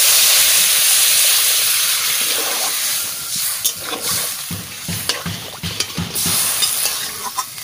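Water hits a hot pan of egg and potato curry, giving a loud burst of steamy hiss that slowly settles into bubbling, with a few clinks of stirring.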